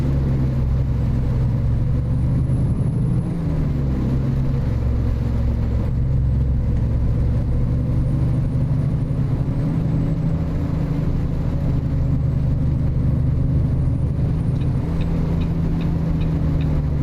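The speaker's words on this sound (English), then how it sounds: "let's climb into the truck, get her fired up, and get moving on down the road." A truck engine drives along in American Truck Simulator, a steady low rumbling drone that holds throughout with slight shifts in pitch, loud and continuous with no voices.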